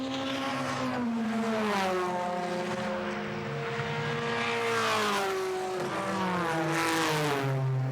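A race car at Le Mans in 2002, heard from on board at over 300 km/h, gives a loud, sustained engine roar with a high whine that rises and falls through gear changes.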